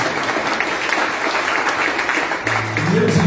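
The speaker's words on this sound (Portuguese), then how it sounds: "vamos aplaudir o Pai e o Filho e o Espírito Santo" Congregation in a church during a family worship service applauding together, a sustained, fairly loud wash of clapping, with a low hum entering near the end.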